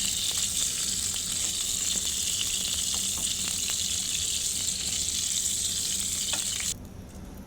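Pointed gourd (potol) fries in hot oil with a steady, bright sizzle and scattered crackles, close and continuous, then drops to quieter bubbling right at the end.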